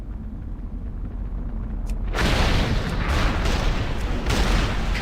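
Ship cannons fire in World of Warcraft, a low rumble that gives way at about two seconds to loud, continuous booming volleys and blasts.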